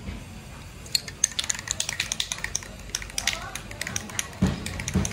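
VHT Flame Proof flat black spray paint hissing from an aerosol can onto a Harley Davidson Iron 1200, short sharp bursts with a few longer sprays, close and moderately loud, and someone speaks intermittently.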